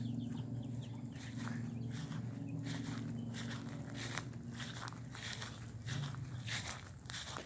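Chickens in a backyard coop in a Florida edible garden cluck in scattered bursts over a steady low background hum, moderately close with occasional rustling steps.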